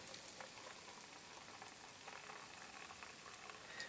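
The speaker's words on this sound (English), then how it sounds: "Being gentle with the pour" Ampleforth Abbey beer, a Trappist-style ale, is poured gently into a Belgian Trappist glass, giving a steady fizzing, bubbling hiss that sounds quiet and continuous with no talking.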